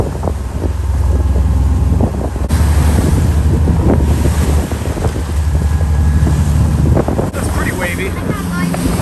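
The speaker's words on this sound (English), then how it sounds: "And the waves are pretty big." Big ocean waves wash steadily around a drifting fishing boat at sea, with heavy wind buffeting the microphone throughout and some talk in the background.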